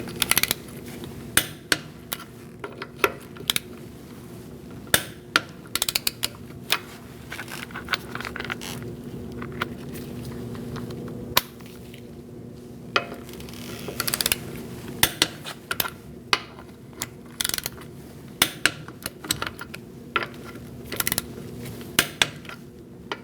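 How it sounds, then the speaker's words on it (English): Lug nuts on the wheels of a 2004-2012 Chevrolet Colorado 3.7L are tightened with a 19mm socket in a crisscross pattern, making scattered metallic clicks and clanks with short ratcheting bursts, close by, with no talking. "Using a 19mm socket, we're going to torque our wheels to 103 foot-pounds in a crisscross style."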